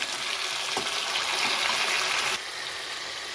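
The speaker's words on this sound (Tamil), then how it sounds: "தக்காளி நல்லா வதங்கணும்." Tomatoes with garlic and green chillies sauté in a pan for a Tamil fish curry, a steady close sizzle with faint stirring scrapes that drops slightly in level toward the end, no voices.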